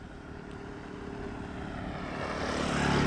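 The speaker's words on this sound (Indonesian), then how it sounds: "Jadi ada suara motor lewat." A motorcycle passes on a windy outdoor road beside rice fields, its engine droning steadily and growing louder as it approaches over about three seconds, with wind noise underneath and no voices.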